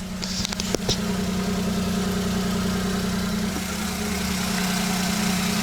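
A Suzuki Jimny JA22W engine idles with a steady, even low hum and constant rumble, close by and unchanging, with a few faint clicks near the start and no speech.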